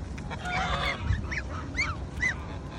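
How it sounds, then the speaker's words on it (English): Waterfowl at a pond give repeated honking calls, several overlapping squawks in quick succession, fairly close and clear over a soft outdoor background. "Look at the duck."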